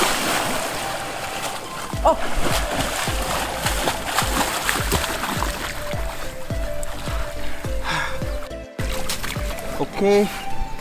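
Water gushes and splashes out through a double siphon system in a steady, busy flow with repeated splattering pulses, while a person talks over it.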